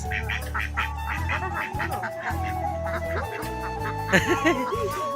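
Ducks in a village during a Makar Sankranti outing give a series of nasal quacks and honks, close and overlapping, with background voices.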